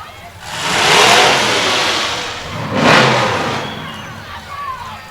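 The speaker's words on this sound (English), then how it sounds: "that car has quite an engine, doesn't it?" A muscle car's engine revs hard at a Christmas parade, with two loud surging roars that swell and fade nearby as a voice talks over them.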